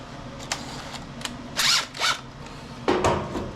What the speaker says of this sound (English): let's clean that off the wire wheel and the drill.